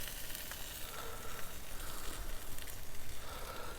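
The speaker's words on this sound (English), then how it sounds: "Get a little sizzle." Pork steaks sizzling on an Oklahoma Joe's Bronco barbecue grill, a steady crackling hiss that fills the short stretch, close and fairly quiet with no talk.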